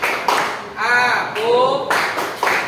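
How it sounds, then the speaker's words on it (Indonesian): A school class doing a concentration clapping rhythm, short bursts of group claps alternating with chanted voices in a quick, patterned beat. "sekarang tepuk konsentrasi. Tepuk konsentrasi."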